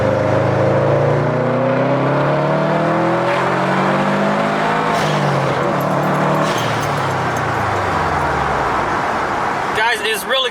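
An upgraded Subaru STI climbing a hill gives a deep, steady engine rumble with a rising and falling drone as it pulls through the gears. It is heard from inside the car, fairly loud but not harsh.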